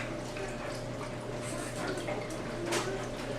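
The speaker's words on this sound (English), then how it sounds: "Then we're going to go ahead and add the vegetable stock" Vegetable stock poured into a Ninja Foodi cold and hot blender jar over cauliflower and carrots, a soft, steady liquid splash and trickle over a low background hum.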